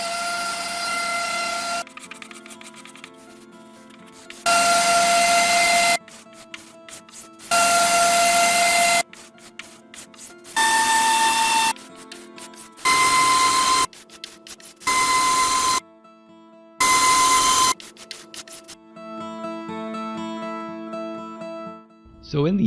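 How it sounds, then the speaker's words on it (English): Scraping and sanding on wood for a handmade table with a natural branch running through it: repeated loud bursts of gritty rubbing, separated by short pauses, with a steady background hum. "I'll just pause here while you enjoy the sounds of scraping and sanding"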